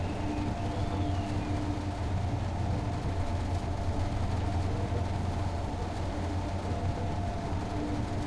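A freight train passes on a Dresden regional line in Train Sim World 5, heard as a steady, droning rumble with a low mechanical hum, constant and unbroken throughout.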